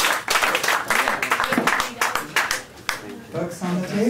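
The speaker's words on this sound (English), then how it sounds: "Round of applause for you so much." Applause from a small café audience after a women poets' reading, a close, uneven burst of clapping with some voices and murmurs mixed in, rising and dipping in waves.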